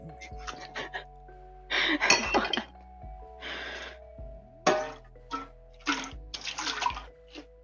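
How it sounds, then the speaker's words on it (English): Tap water runs into a cooking pot for pasta in repeated bursts, with short clinks of the pot and faint household noise between the pours. "Just getting my pasta water."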